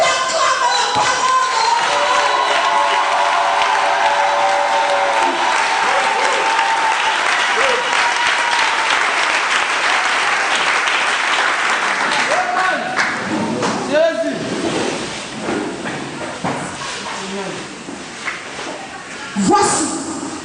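Church congregation at a Sunday worship service breaking into loud sustained applause with cheering and scattered thuds, then thinning into lighter clapping with voices underneath toward the end.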